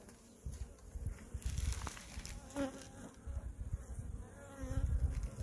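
A steady, dense buzz of many honeybees swarming around a hive, continuous and close, with no voices.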